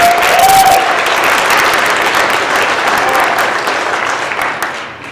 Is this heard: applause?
yes